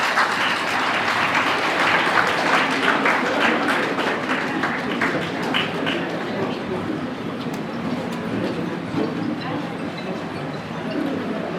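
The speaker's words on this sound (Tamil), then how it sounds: "எல்லாம் நல்லா கைதட்டுங்க" Dense, steady applause from a large audience at a Chennai district Thambras association function, filling the whole stretch with a continuous wash of clapping that eases slightly toward the end.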